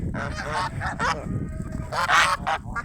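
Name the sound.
geese honking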